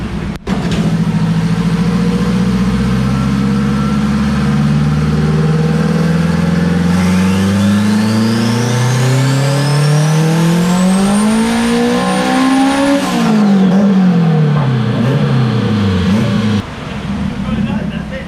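A turbocharged Honda Civic with a K20A2 engine revs on a dyno at low boost, loud and close. The pitch climbs steadily to a high peak, a turbo whistle rises above it, then it drops off as people talk nearby.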